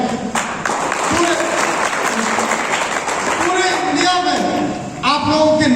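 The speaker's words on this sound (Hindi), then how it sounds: "एक जोरदार ताली" Loud, continuous applause from an audience at a Friday business training session, a dense clapping wash sustained for about six seconds with a swell near the end.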